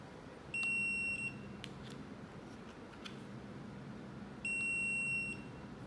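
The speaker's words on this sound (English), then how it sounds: "A long beep you will hear here, which means it is successful" Two long electronic beeps from an intercom door panel, each about a second, steady and high-pitched, separated by a few seconds of quiet room noise with faint clicks.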